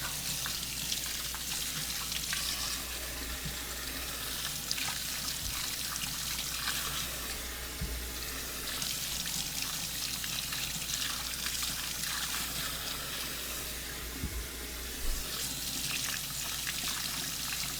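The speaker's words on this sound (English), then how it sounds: "I'm going to take them and rinse them off real quick." Four potatoes rinsed under a running kitchen tap, a steady, continuous stream of water splashing at low level with faint scattered knocks and handling noises throughout, and no talking.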